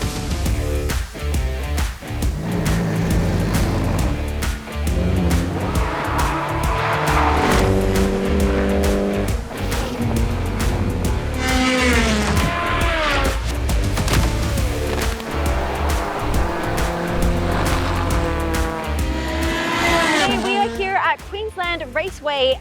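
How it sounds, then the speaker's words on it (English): Race cars roar past at high revs on Queensland Raceway during testing, engines rising and falling as they shift gears, with tires squealing; loud and continuous. "some of Queensland's finest are putting their cars through a final shakedown"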